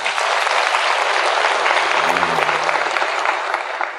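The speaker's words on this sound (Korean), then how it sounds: "시장님에게 박수 한번 부탁드리겠습니다." Audience members at a citizens' forum in Dongducheen on the US 2nd Infantry Division staying applaud the mayor with loud, steady, dense clapping from the whole hall, along with a brief low voice in the middle.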